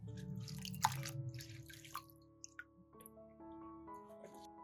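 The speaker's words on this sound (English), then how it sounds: "After soaking, gently rinse each stalk." Green onion stalks being rinsed by hand in a basin of water, with quiet drips, splashes and a few sharp clinks against the container over a faint ringing tone.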